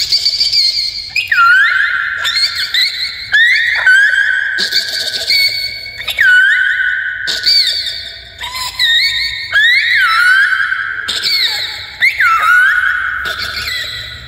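A man imitates a myna bird, repeating sharp whistled calls with swooping, rising tones in a loose rhythm of bursts separated by short pauses, close and loud.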